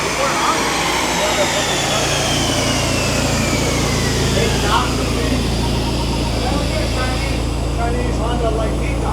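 A 2024 Acura Integra Type S roars steadily on a dyno, its engine held at high revs in a loud, continuous drone with a slowly shifting pitch throughout.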